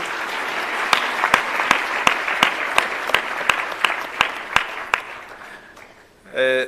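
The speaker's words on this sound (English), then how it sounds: "Let's give him a round of applause." Steady applause from an audience at a launch event fills the air, with sharper individual claps standing out, then fades before a short burst of something else at the end.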